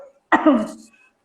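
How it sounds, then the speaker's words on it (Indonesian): A single sharp cough, close and abrupt, after a brief moment of quiet. "Sorry, batuk."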